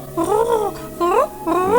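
A human voice imitates pigeons cooing, producing three warbling, rising-and-falling hoots in a steady rhythm, close and fairly loud with nothing else around them.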